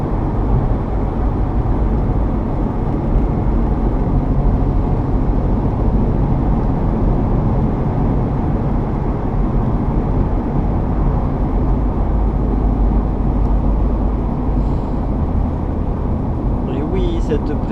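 Turbocharged Renault Super 5 1.1 fitted with a Garrett GT28 turbo, driving at low revs: a steady, loud, low engine drone and road rumble from inside the car, continuous throughout.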